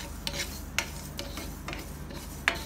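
Sesame seeds roasting in a dry pan, giving soft scratchy rustles with a few sharper crackles and pops spaced irregularly over a low steady hum, quiet and close.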